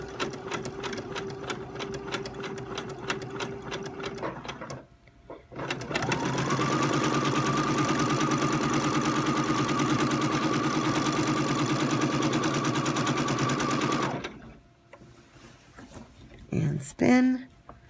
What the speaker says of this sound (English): I'm going to stitch back the other way.